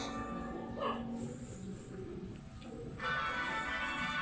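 Half Pomeranian, half fox puppies yip and whimper in a steady high-pitched chorus, close and continuous, with some background noise.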